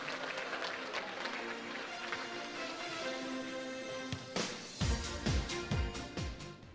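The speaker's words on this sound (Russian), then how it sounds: "Аплодируем, дамы и господа, аплодируем." Audience applause at the Miss Republic of Sakha (Yakutia) 2015 beauty pageant: dense, sustained clapping from a large hall crowd, swelling with sharper nearby claps toward the end.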